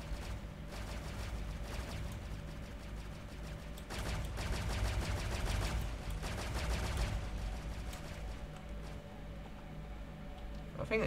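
Rapid turret gunfire rattles out in a base-building video game, with dense repeated bursts of shots that swell in the middle and continue steadily to the end.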